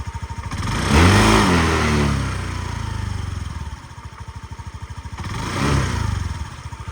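A Honda Dio 110cc fuel-injected scooter engine revs up twice, rising in pitch each time, then settles back into a steady, rattling idle close by.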